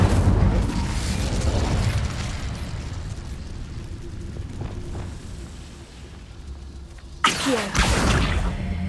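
A fire spell cast in Hogwarts Legacy, heard as a sudden loud burst and roaring whoosh near the end, following a steady rumbling game ambience.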